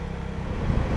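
A 2015 KTM 390 Duke single-cylinder motorcycle engine thrums steadily while being ridden, with a low, close engine drone and road rush that rises slightly toward the end.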